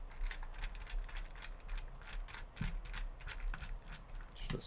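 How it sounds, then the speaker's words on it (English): A small Phillips head screwdriver backs screws out of the rear shell of a Retro-Bit Tribute 64 controller, giving a steady run of close, quiet clicking and ratcheting taps with a few slightly louder knocks. "Just a small Phillips head screwdriver will do it."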